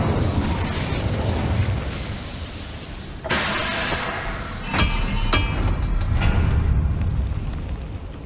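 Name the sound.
Incendio fire spell blast in the video game Hogwarts Legacy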